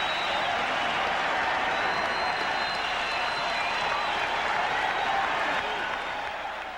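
A packed Boston Garden crowd at a 1992 Celtics–Bulls basketball game applauds loudly and steadily for several seconds as fans hold up number 32, with faint commentary underneath.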